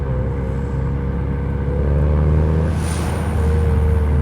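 An FK7 car engine with an HKS Hi-Power Spec L2 muffler revs up to 3000 rpm and holds, its exhaust rumbling louder and deeper, with a brief hiss passing in the middle, close by.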